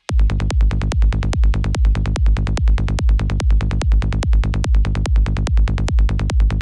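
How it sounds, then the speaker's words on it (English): A punchy kick drum thumps in a steady, fast four-on-the-floor pulse, locked with a deep sustained bass line, loud and alone. "Just the kick and bass on its own is going to sound like this."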